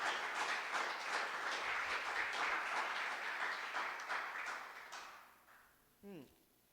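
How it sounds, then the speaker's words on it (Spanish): A church congregation applauds, a dense round of clapping that holds steady and then fades away, followed by a brief voice at the end. "Dele un aplauso al Señor"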